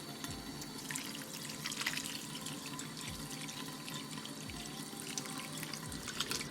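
Tap water runs steadily into a sink while freshly made homemade paneer is rinsed in a strainer, with soft splashing and dripping up close and no talk.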